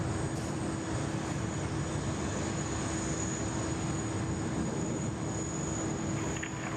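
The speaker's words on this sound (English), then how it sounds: "There's Velocity heading out this morning." A Velocity airliner departing Sydney Airport in the morning, a steady loud broadband jet roar with a constant engine whine, unchanging throughout with no talk.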